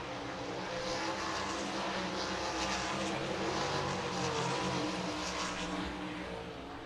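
Sprint cars racing in a heat at I-90 Speedway, a dense, continuous high engine roar heard from a distance as the field circles the track, with no talking over it.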